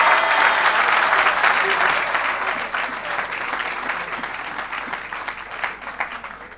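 A church congregation applauds for Jesus Christ: sustained, dense clapping from a large crowd that slowly tapers off.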